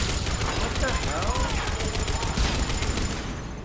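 Automated turret firing in Mass Effect 3 co-op online play, a steady dense rattle of rapid gunfire running the whole time beneath voices.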